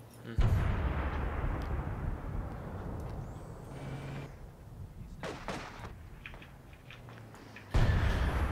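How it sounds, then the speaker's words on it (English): Artillery fire in a World War II strategy video game booms with deep, heavy blasts, one near the start and another near the end, over a continuous rumbling battle backdrop. "That arty sounds pretty lethal."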